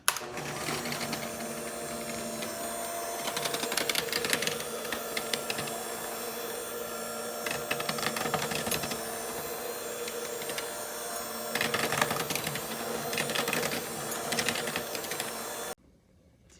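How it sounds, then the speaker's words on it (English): An electric hand mixer whirs steadily for about fifteen seconds, beating cola cupcake batter in a bowl with a loud continuous motor drone and faint rattles against the bowl, then cuts off abruptly. "now I'm just gonna be using my handy dandy hand mixer and then mix all these ingredients together"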